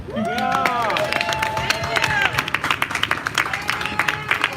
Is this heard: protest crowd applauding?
yes